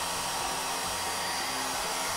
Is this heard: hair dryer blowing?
yes